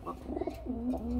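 A Lotan pigeon coos once at close range in a single rolling, throaty call lasting about a second, with no other sound around it.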